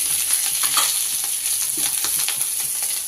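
Ginger, onion, garlic and ground spices are stirred into cauliflower and potatoes frying in a pan, giving a continuous close sizzle with scattered light scraping from the spoon.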